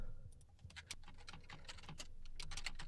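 Quick, uneven bursts of computer keyboard typing as a form name is entered in a database program, close and moderately soft, with no talk.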